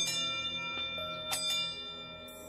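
A single church bell stroke with a long, ringing hum that lingers and slowly fades, with a few faint clicks and taps scattered through the decay.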